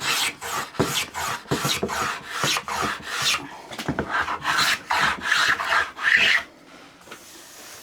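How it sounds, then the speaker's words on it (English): A hand plane shaves wooden moulding in a series of repeated rasping strokes, loud and close, with no talking. "We haven't hand planed to that section yet, so now we're going to move in there."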